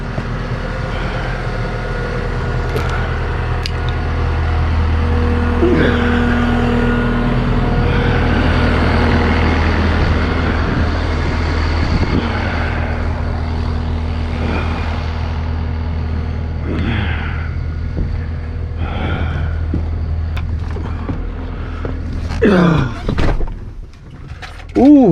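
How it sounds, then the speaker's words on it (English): A truck is driven out of the way, its engine idling and rumbling steadily up close with faint mechanical clunks, then shifting near the end; no one speaks. "I'll move my truck out of your way."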